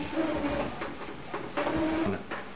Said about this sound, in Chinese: 把托盘推到底，打印喷嘴检查